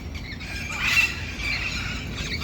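Parrots in a city park in South Miami give shrill squawks and squeals in the background, loudest around the first second, over a steady outdoor hum.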